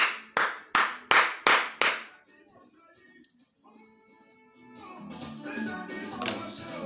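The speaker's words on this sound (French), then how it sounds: "On applaudit pour cet artiste." An audience at a concert claps for an African music artist, with about six loud, evenly spaced claps in a steady rhythm, then a quiet pause before music and crowd noise build up.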